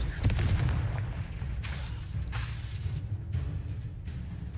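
A blasting spell cast in a Harry Potter video game bursts out as a sharp explosive crack, then a dense rumbling spray of booms and crackles that continues for several seconds.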